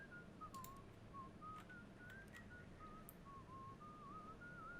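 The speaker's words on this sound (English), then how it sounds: "Prevent yourself from whistling." A character in the video game Shadows Over Loathing whistles a wandering, continuous melody that stays close and clear over a low steady background hum for the whole stretch.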